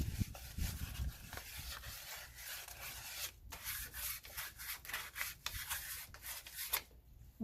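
Hand scuffing of a glazed brake surface on an old fire truck produces a rough, rhythmic rubbing and sanding sound, a series of short strokes close to the microphone with brief pauses between them.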